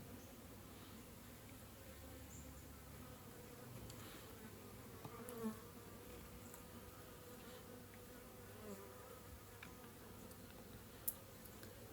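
A swarm of honey bees working inside a swarm trap, a faint steady buzzing drone throughout with a few small clicks and knocks from handling the equipment.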